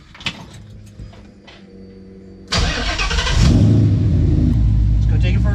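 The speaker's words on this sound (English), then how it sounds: "let's see if we can crank it up." A car with a reported exhaust leak and disturbed O2 sensor wiring cranks briefly after a few faint clicks, then catches and settles into a loud, steady idle close by.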